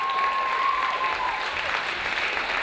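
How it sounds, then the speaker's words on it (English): An audience at a junior awards ceremony claps in a steady, dense wash of applause, fairly loud and continuous throughout with no talking over it. "Give him another clap, come on."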